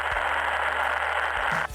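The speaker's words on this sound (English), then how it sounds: "look, like radio static and stuff like this" Steady broadband radio static from an Arma Reforger sound mod, a continuous hiss that holds evenly for nearly two seconds before cutting off, with a low hum underneath.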